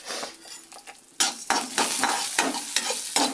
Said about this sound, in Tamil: நம்ம புளியை போட்டு கூட நம்ம லைட்டாக வதக்கிக்கலாம்